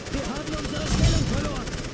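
Gunfire in The Great War: Western Front, a World War I battle, with a dense, continuous rattle of distant and mid-range shots swelling near the middle over a booming low rumble.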